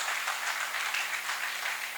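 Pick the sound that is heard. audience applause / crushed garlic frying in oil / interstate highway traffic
audience applause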